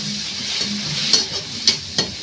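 Onions and tomatoes frying in a pan while being stirred, a close steady sizzle broken by a few sharp scraping taps of the spoon, short and without talk.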